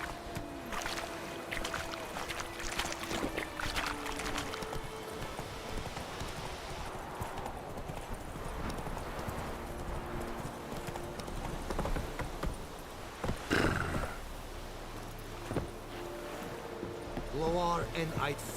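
Roach the horse's hooves clip-clop at a steady walk through The Witcher 3: Wild Hunt, joined by water and ambient game sounds, with a voice talking over parts of it.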